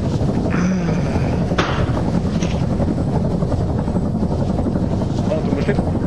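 Helicopter in the Arma 3 video game, its steady rotor and engine drone filling the clip continuously at close range beneath a few brief game sounds.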